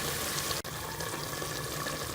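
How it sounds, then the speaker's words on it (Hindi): Water poured into a pot of vegetables for vegetable pulao, a steady hissing splash that runs throughout at close range and fairly loud, with no talk. "इसमें थोड़ा सा पानी डाल के सब्जियों को थोड़ी देर गलने के लिए रख दूँगी"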